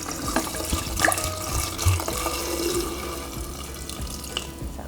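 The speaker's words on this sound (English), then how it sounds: "I'm just going to pour the entire thing in" Wine pours steadily from a bottle with a running, splashing gurgle as the whole bottle is emptied into a container, with a few small clinks; no one speaks.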